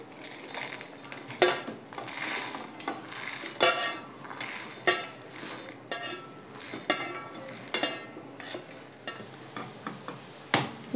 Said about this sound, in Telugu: మిక్సీ జార్ తీసుకుని ఇవన్నీ మిక్సీ జార్లో వేసుకుంటున్నాను